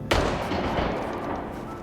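A single gunshot in the horror movie Dead of Winter cracks out sharply, then a long rumbling echo slowly fades, as if heard outdoors at a distance.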